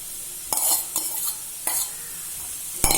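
Beans, carrot, beetroot and peas being stirred in a hot pan with a spatula, in several scraping bursts over a steady soft sizzle, close and fairly loud, with no voices.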